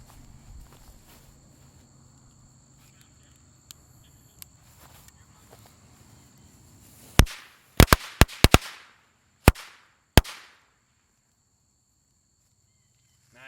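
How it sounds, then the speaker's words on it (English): Alien firecrackers set off outdoors at a night pyrotechnics gathering: after quiet with crickets and light rustling, a loud cluster of sharp cracks bursts out, then two more isolated bangs, fairly near. "Those are just nice firecrackers."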